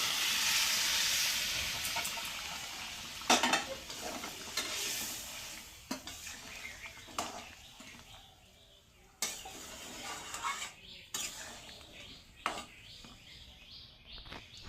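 Moong dal stirred in a pan for a fish-head dal shows a sizzle at first that quiets, then gives way to spoon scrapes and clanks against the pot, with some faint background voice.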